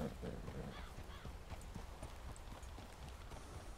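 Horse hooves clip-clopping in Red Dead Redemption, a steady run of mid-level thuds over continuous low background rumble, with faint talk mixed in.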